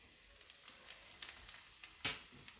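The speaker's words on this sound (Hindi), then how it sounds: "तो तेल हमारा गर्म हो गया है। अब इसमें मैं डाल दूंगी 1 टीस्पून अजवाइन।" Carom seeds (ajwain) sizzle in hot oil and ghee with a faint, steady hiss broken by small scattered pops, and one louder crackle near the end.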